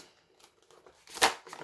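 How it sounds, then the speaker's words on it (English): Tarot cards riffled in a brief, clumsy shuffle, a soft papery rustle that swells into one loud close flutter before trailing off, with no talking. "Oops, that was an awful shuffle."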